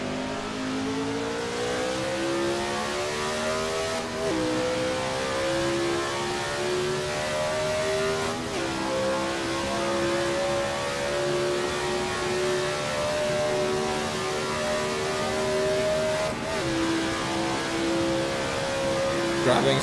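A race car engine screams steadily in a video game recreation of the 1967 South African Grand Prix, holding high revs with brief gear changes and a rising pitch, while someone talks over it.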